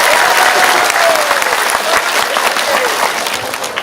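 A gathering at an Islamic religious assembly bursts into loud, sustained clapping for the governor, a thick, continuous wall of applause that stays strong before easing slightly at the end.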